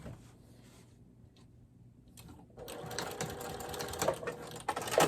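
A sewing machine runs stitches along a seam of a vinyl makeup bag, starting quietly and then whirring steadily and louder through the latter half, with small mechanical clicks.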